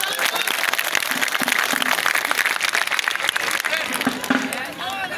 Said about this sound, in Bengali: সবার জন্য একটা জোরে হাততালি